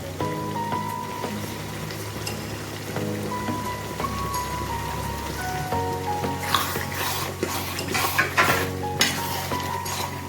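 Mutton curry with added turmeric is stirred in a pan, the utensil scraping and clattering in clustered bursts toward the end over steady background music.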